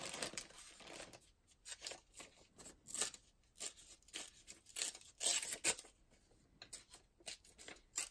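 Brittle, well-aged book paper being torn into pieces of different sizes: repeated short, crisp ripping bursts in an irregular rhythm, close and fairly quiet, with no voices.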